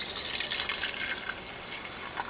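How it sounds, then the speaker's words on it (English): Brewed loose-leaf tea drains from the bottom valve of a tea brewer into a cup below, making a short, close, steady trickle of liquid that fades slightly toward the end, heard alone. "Tea pours out the bottom because the valve opens up."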